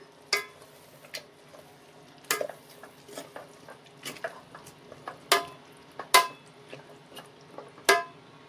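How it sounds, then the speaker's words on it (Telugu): A spoon clinks repeatedly against a pot while curd is stirred into spiced paneer pulao masala, with sharp irregular taps over a quiet, soft background sizzle. "ఇప్పుడు కొంచెం కర్డ్ యాడ్ చేసుకొని ఒకసారి అయితే మిక్స్ చేద్దాం."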